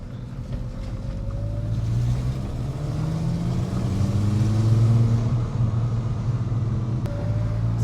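A car engine with an exhaust leak runs close by, a loud rough droning rumble that climbs as it revs, then settles back toward idle.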